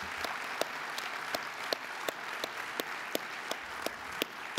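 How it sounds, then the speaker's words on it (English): Applause from a conference audience at a closing plenary on the opioid epidemic, a steady wash of clapping with distinct individual claps standing out at a fairly regular pace, moderately distant and continuous. "How about a round of applause to support and recognize his leadership?"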